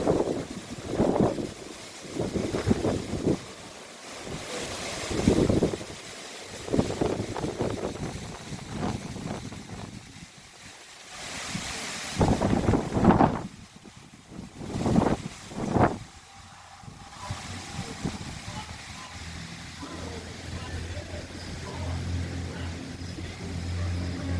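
Strong gusty wind during a wind storm buffeting the microphone, loud roaring bursts that rise and fall over twenty-odd seconds, with brief lulls between gusts and no clear talk.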